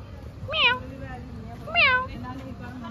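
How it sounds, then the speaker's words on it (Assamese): A cat meows twice, clear and close, with a short pause between the cries, over a low background hum. "মেকুৰী এজনী মেকুৰী খাবলৈ আহিছে চাগে"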